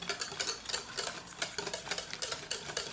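Grated Emmental cheese is stirred so it melts, making a rapid, regular scraping and stirring rhythm that stays close and continuous for the whole stretch, with no speech.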